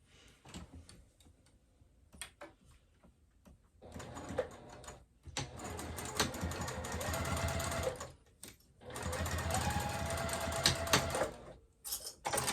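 A sewing machine stitches along the side of a fabric wristlet pouch in several close, steady bursts of rapid needle chatter, separated by short pauses and faint handling clicks.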